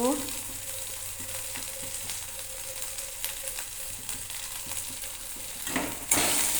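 Spices such as turmeric and Kashmiri chilli powder are stirred in a frying pan, making a steady close sizzle broken by soft scrapes and taps of the spoon against the pan.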